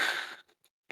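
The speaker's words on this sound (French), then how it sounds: "je bâille, mais j'essaie de pas bâiller pendant le avec mon micro allumé" A yawn close to a microphone: a long breathy exhale fades out, followed by a few small breaths and mouth sounds.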